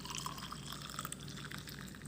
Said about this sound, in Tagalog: Pagkatapos niyan, lagyan ng mainit na tubig.